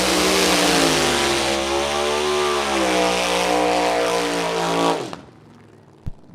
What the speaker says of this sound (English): in the front-engine dragster, the 1962 Dragmaster Dart from Garden City, Michigan